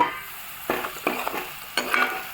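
Potato fry mixture being stirred in a frying pan, three distinct scraping strokes over a quiet low sizzle, close and fairly crisp.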